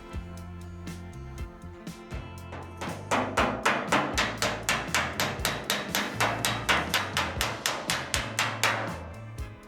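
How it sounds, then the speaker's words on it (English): A hammer strikes a welded race car body panel in a long run of soft, evenly spaced metallic blows, about three per second, close and steady with a light ringing tone after a few quieter taps. "I'm hitting multiple soft blows and trying to overlap each blow just to give me a consistent stretch along the whole thing."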